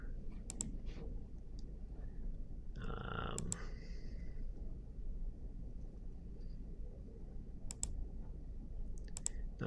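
Computer mouse clicks while editing in Final Cut Pro, a few sharp close clicks, some in quick pairs, spaced over a low steady background rumble with a brief soft murmur.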